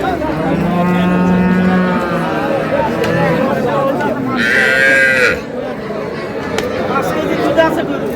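Cows with calves at a busy livestock market in Ambari, Dinajpur, one clear moo rising over loud crowd chatter and bargaining voices.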